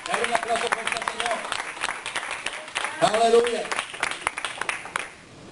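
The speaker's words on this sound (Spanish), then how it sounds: "un aplauso fuerte" A church congregation at a Spanish-language Sunday service claps loudly and continuously while a voice shouts out over the noise. The clapping tapers off abruptly at the end.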